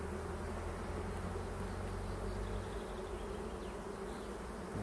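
Dense, continuous buzzing of many bees close by, a steady droning hum with no voices.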